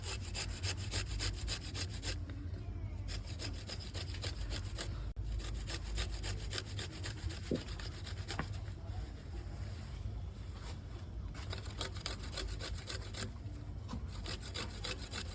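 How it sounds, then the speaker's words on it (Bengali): Ginger root being rubbed across a kitchen grater, a continuous rapid rasping scrape with a steady back-and-forth rhythm, close and fairly quiet, with no talking. "আদাটাকে আমি চিপসারে ঘষে নেব"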